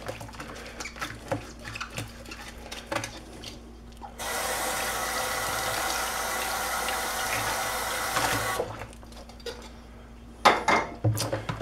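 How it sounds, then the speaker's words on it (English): Water runs from a kitchen tap as plastic hummingbird feeder parts are rinsed in a sink, a steady rush of several seconds framed by light clatter of parts and dishes before and after. "take all these parts out, rinse them off, let them dry in the rack"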